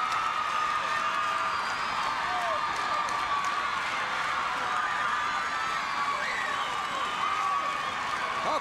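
A large wrestling arena crowd roars and applauds continuously, a steady wash of cheering and clapping with occasional whoops, no pauses throughout.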